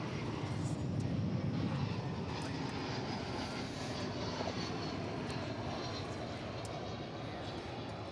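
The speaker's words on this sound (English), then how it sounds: "gleaming in the evening light is the mighty A380 British Airways Speedbird" A British Airways Airbus A380 is pushed back at Dallas/Fort Worth Airport, its engines and airport ground noise making a steady, loud broadband roar that holds evenly throughout.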